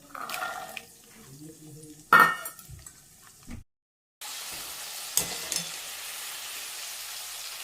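Guar (cluster beans) and val beans frying in oil for undhiyu: a steady, even sizzle that takes over after a short silence, preceded by some louder clattering and stirring in the pan.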